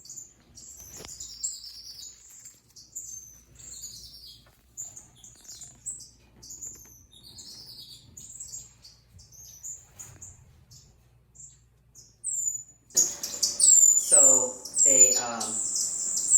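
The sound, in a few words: aviary birds chirping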